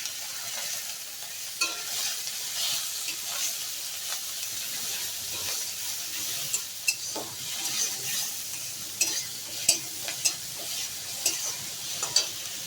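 Grated onion fries in a pan with a continuous, close sizzle and hiss, punctuated by repeated spatula stirs and scrapes that grow more frequent toward the end.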